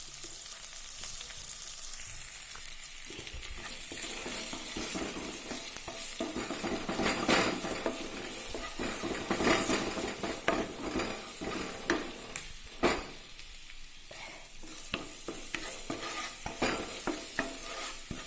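Jackfruit seeds sizzle in a pan for a roast dish, with a constant crackling fry and repeated scraping and clinking of a spoon stirring against the pan, close and continuous without any voices.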